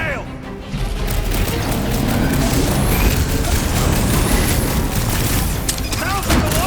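Dense battle din from the Guardians of the Galaxy video game, with booming explosions and rapid gunfire layered into a continuous, loud chaotic roar throughout, with occasional metallic crashes.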